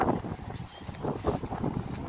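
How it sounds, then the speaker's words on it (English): Cold, gusty wind rumbles and buffets outdoors, a loud irregular low roar that surges and dips, with no voices. "Definitely cold, definitely windy."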